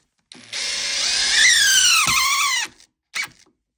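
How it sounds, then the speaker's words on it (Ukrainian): A power drill drives new self-tapping screws during a building job, a loud steady whine that bends downward in pitch near the end as the screw seats, then stops, followed by a brief second burst. "Так, провіряють, чи добрий все-таки саморіз купила я."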